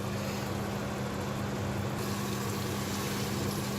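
Onions fry in a pan on a low stovetop flame, a steady even sizzle and hiss running throughout with a low hum beneath and no talking.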